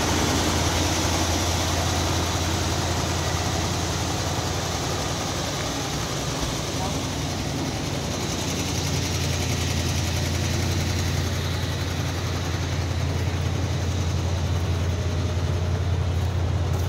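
A 1979 Dodge truck engine idling, heard as a steady, close low rumble that holds evenly throughout with no revving, while someone talks over it.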